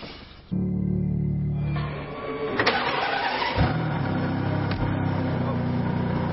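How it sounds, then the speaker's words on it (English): A Ferrari Enzo's 6-litre V12 fires up after a brief quiet moment, then settles into a loud, deep, steady idle with a couple of short blips of revs. "Big start button to fire up that 6-litre V12"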